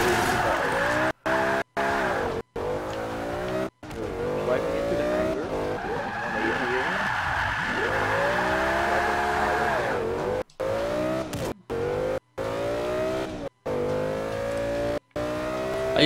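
A car drifting in Forza Motorsport 5, the engine revving and wavering under long, sweeping tire squeals that rise and fall repeatedly, loud and close, broken by a few brief silent gaps, with a voice talking at times.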